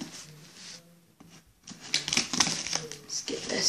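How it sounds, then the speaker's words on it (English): Close scissor snips and crinkling packaging as something is cut open, with brief talking mixed in. "Kind of bad at cutting stuff open"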